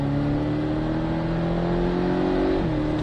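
A Porsche 718 Cayman S accelerating hard on the Trappes race circuit, a loud, close engine drone climbing steadily in pitch before a sudden shift near the end.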